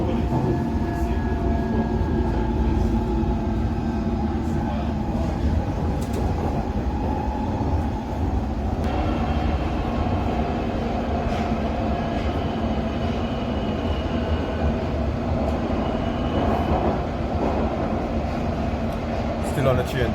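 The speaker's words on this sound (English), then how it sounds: "Still on the train, people." Steady rumble and rattle of a moving London train from inside the carriage, a constant low drone with faint squeals, and a voice speaking over it.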